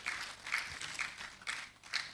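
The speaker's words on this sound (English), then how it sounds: "Please, a round of applause for her." Scattered applause from guests at an engineers' award dinner in Abuja, soft and somewhat distant, with a few claps rising in loose bursts roughly every half second.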